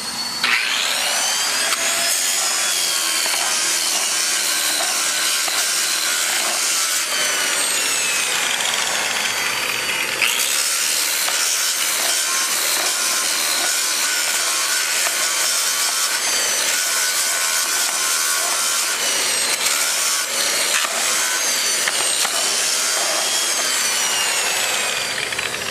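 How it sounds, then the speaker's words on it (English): A portable grinding system fitted with a saw attachment and a ZEC wheel grinds concrete during a spall repair, making a loud, continuous, harsh whine and grind that holds steady for over twenty-five seconds with no talking. "We've chosen to use a portable grinding system with a saw attachment."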